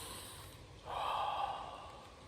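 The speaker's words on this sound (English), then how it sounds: "just sit down and just breathe deeply" A single slow, deep breath drawn in while sitting still, a soft airy rush that swells and then gradually fades, close and quiet against a faint steady background.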